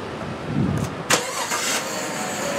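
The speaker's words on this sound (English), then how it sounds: "It does have your remote start." A 2014 Chevrolet Silverado LTZ pickup starts up by remote start, giving a brief crank and catch at about the one-second mark before settling into a steady, moderately loud idle.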